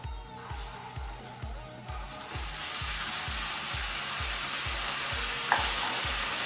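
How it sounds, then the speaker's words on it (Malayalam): Chopped thazhuthama leaves, added for a thoran, fry in a pan with a steady loud sizzle that builds as they are stirred, while a regular low thumping pulses underneath. "ഇട്ട് കൊടുത്ത് നമുക്ക് ഒന്നാണ്ട് ഇളക്കി കൊടുക്കാം."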